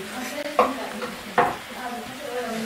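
Duck breasts bubble and sizzle in a pan of reducing sauce, with two sharp scrapes or clinks of a utensil against the pan over a steady simmer, close by.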